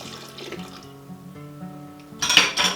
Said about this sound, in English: we'll pour the orange juice into the butter mixture